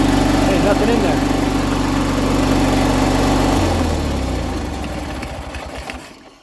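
A 40-year-old Honda Fourtrax ATV engine runs loud and steady with a dense buzzing drone, its tone shifting lower partway through before it fades toward the end.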